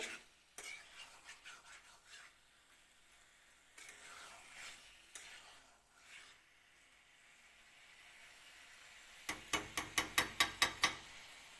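A spoon scrapes and stirs chicken liver curry in a pan with soft, intermittent strokes, then a quick burst of sharp metallic taps rings out near the end; quiet overall, with no talking.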